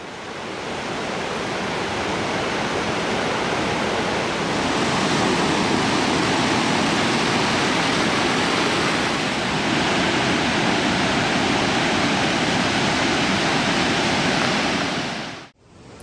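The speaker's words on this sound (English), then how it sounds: "the Watson River, fed almost entirely by the Russell Glacier, has surged from unprecedented melting" The Watson River, fed by the Russell Glacier and swollen by heavy meltwater, roars as a loud, dense, constant rushing torrent, nearby and unbroken for the whole stretch before cutting off abruptly at the end; no voices.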